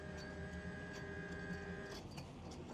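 A steady electric outboard trim motor whine over a low engine hum on a Chris Craft Launch 31GT boat, close and fairly loud, cutting off after about two seconds.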